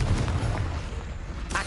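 A Confringo blasting spell from Hogwarts Legacy gives a short, dull booming blast. It rumbles low and steady for under two seconds and ends with a brief bright crack.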